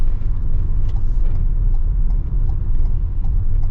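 A 2023 Ford Transit cargo van, a dually on leaf springs, drives around a racetrack-style test course, giving a steady, loud low engine and road rumble throughout with no talking.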